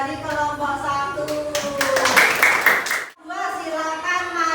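Brief classroom applause for the first student group, a short flurry of clapping layered over a speaking voice, cutting off abruptly before talk resumes.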